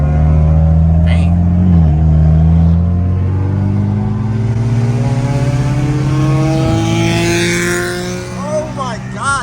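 A loud car revs and passes close by in traffic, its engine tone rising and falling over several seconds, heard from inside another car with voices talking over it.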